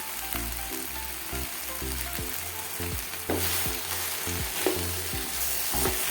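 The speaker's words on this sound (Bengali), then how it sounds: "এভাবে আমি নাড়তে থাকবো 2 থেকে 3 মিনিট মতো।" Okra frying in a little oil with salt and turmeric crackles and sizzles steadily while a utensil scrapes and stirs in a repeating rhythm, close by, with no talk.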